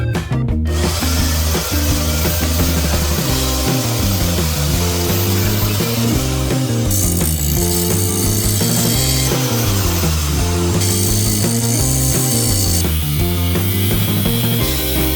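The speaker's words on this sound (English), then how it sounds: "So let's start cutting up some metal." A power tool cuts metal pieces for a bench frame, a loud, continuous grinding whine with rhythmic shifts in pitch and load throughout, no voices.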